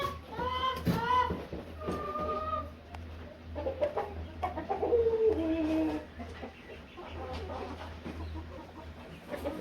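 Chickens cluck and squawk inside a barn on a small poultry farm, with several nearby birds calling in overlapping bursts over a low steady background hum.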